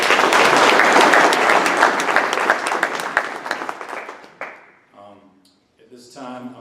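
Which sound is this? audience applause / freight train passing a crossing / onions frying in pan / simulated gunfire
audience applause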